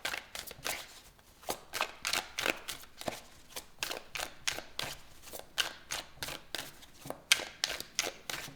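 Tarot cards being shuffled by hand, a quick series of crisp riffling bursts repeating in an uneven rhythm, close and clear with no talking.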